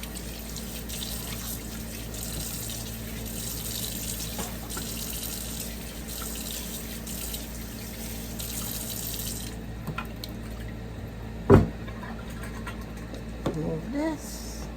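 Water runs steadily from a kitchen tap as fruit is rinsed while making a summer drink. The flow is broken by a sharp clunk near the end and a few faint knocks after it.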